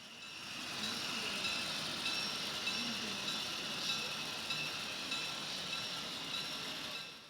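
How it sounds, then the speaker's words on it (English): An HO scale model train runs on a Great Northern layout, producing a steady, continuous mechanical hum and faint whirr at moderate distance that holds evenly for several seconds. "trains like this are now running all the way to Gold Bar"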